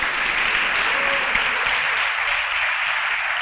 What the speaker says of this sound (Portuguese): Quem crê nisso aí, dá um aplauso a Ele bem forte.